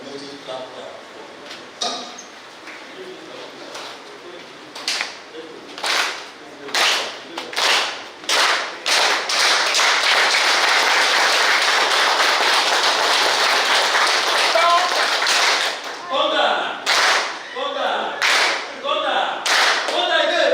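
A live audience at an educational workshop claps in unison in a locomotive-style rhythm, starting with spaced group claps that build into dense, sustained applause before returning to separate rhythmic bursts, loud and close.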